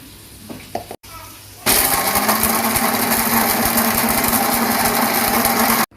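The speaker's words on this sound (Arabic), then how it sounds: "ودلوقتي هطحنه معاكم" An electric grinder starts after some faint handling noises and roars steadily at high speed for several seconds, loud and close, as it grinds home-roasted dried garlic into powder.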